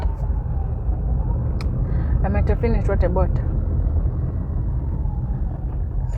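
Car driving in slow road traffic on a road trip, a steady low engine and road rumble throughout, with a person talking briefly over it midway.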